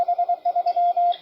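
Radio Morse code tone sending the sign-off 73, heard as a steady beeping series of short and long keyed pulses, close and clear with no voices.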